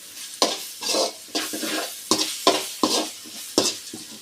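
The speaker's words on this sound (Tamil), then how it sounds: "வெங்காயம் ஓரளவுக்கு வதங்கிருச்சு" Onions sauté in a pan for a fish podimas while a utensil stirs them, producing a rhythmic series of scraping strokes over a constant close sizzle, with no speech.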